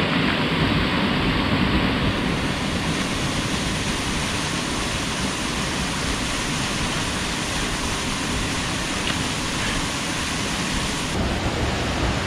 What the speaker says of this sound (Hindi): अभी हम पहुंच गए हैं इस वाटरफॉल पे, जहाँ से मेन सोर्स है